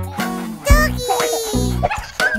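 Cartoon dog bow-wows and yips in a children's nursery song about a policeman and his dog, sounding loud and close over bright sung melody and music.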